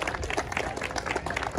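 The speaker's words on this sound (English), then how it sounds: "Give those girls a round of applause." An audience at a car club meeting on a cruise night claps in a brief, dense burst of applause with a few cheers mixed in.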